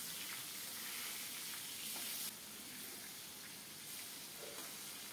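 Hilsa fish fries in a pan, a steady, close sizzle and crackle of oil with brief stirring sounds, fairly quiet and free of speech.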